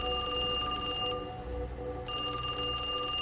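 A telephone rings with a steady electronic tone that breaks briefly in the middle and then resumes. It is faint and sits under a low background hum.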